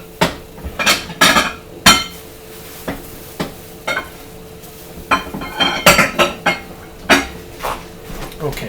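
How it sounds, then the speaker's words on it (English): A casserole dish is grabbed and handled in a kitchen, with a series of sharp clattering knocks and clinks of dishware, irregular and close, some bursts clustered together. "I'm going to grab the dish."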